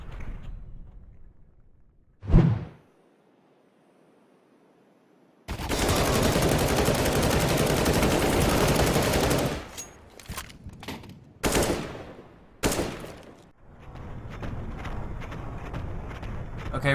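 Rapid sustained gunfire sprays from a competitive first-person shooter, a dense loud burst lasting several seconds followed by shorter broken volleys, with a sharp single report earlier in the clip.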